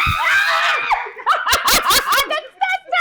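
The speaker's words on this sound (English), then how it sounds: "Oh my God, I totally screamed." A person screams in fright, a sharp high shriek that breaks into shaky laughter and excited talking, close and loud, during a ghost hunt.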